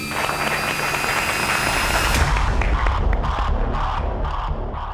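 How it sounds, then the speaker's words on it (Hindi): A studio audience on a crime-drama set applauds and cheers loudly to welcome a host, a dense, steady roar of clapping and crowd noise that continues for the whole stretch. "तो जोरदार तालियों से स्वागत कीजिए आप सभी के क्रांति दूत विप्लव का"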